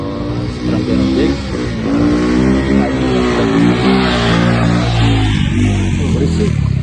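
Motorcycle taxi (ojek) engine climbing the slopes of Mount Sindoro, a loud close drone that rises and falls steadily as the rider revs, with a low harmonic rumble throughout.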